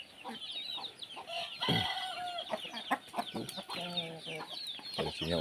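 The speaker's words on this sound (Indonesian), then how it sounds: "Oh, ada ayam di sini juga" Chickens cluck in a Baduy village, a run of short, fairly close calls and a crow-like call breaking through steady outdoor background noise, with no voices heard.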